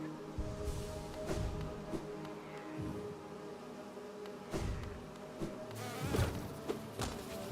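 Bees in the Hollow Knight video game give off a soft insect-like buzzing drone beneath ambient game music, with occasional louder swells and scattered thuds from in-game movement.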